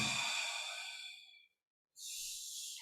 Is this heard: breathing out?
yes